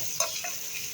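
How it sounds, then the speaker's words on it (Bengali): Chopped onion frying in hot oil gives a steady, close sizzle throughout, with a brief stirring clatter near the start. "তেল গরম হয়ে গেছে, পেঁয়াজ দিয়ে দিচ্ছি"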